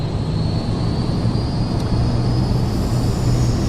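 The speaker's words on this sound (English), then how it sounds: "We're going to slowly increase our throttle here." A light airplane's engine in Microsoft Flight Simulator 2024 holds a steady droning roar as the throttle is eased up for takeoff, loud and continuous with a faint high whine above it.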